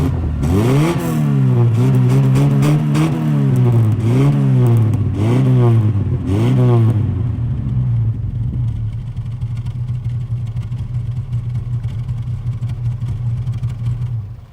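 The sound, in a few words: 1960s Ford Escort MK1 Estate engine revving, heard from the back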